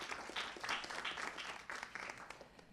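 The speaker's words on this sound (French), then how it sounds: "on peut l'applaudir" Audience applause at a French talk on digital commons, a steady wash of many hands clapping at moderate distance, fairly faint and unbroken for a few seconds with no voices on top.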